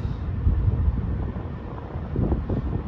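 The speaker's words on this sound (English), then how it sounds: "It's really windy out here" Strong gusty wind buffets the microphone outdoors at a truck stop at night, a continuous low roar that swells and dips, with no talking.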